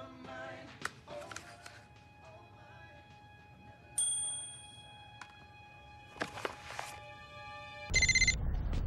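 A cell phone rings in an animated comedy: repeated bright, bell-like ringtone tones with clicks between them, ending in a louder, buzzy burst, and no talk.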